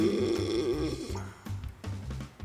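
A man snoring on a furniture showroom shoot, deep rhythmic rasping breaths repeating roughly every half second, close and loud, with a higher nasal whine over the first second.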